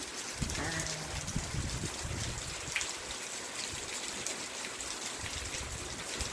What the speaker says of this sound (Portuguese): olha aí a água escorrendo.